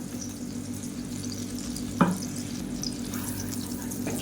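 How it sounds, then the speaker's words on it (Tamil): Ground garlic and pepper sauté in hot butter in a pan, giving a soft, continuous sizzle with one brief clatter partway through, and no voices. "பட்டர் நல்லா சூடானதும் நம்ம அரைச்சி வச்சுருக்க பூண்டு மிளகு வந்து சேர்த்துக்கலாம்"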